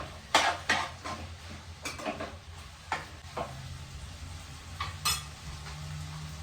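Vegetables being stirred in oil in a pan for sambar, with a spoon clinking and scraping against the metal at irregular intervals over a soft, steady sizzle, close and moderately loud.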